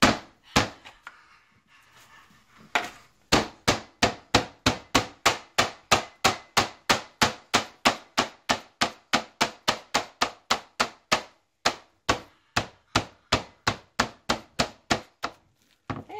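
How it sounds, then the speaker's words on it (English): A rolling pin pounds chicken flat on a kitchen counter, giving dozens of loud, close, evenly spaced thuds in a steady rhythm after a few scattered hits at the start. "And then I can pound this out. I have my handy dandy rolling pin"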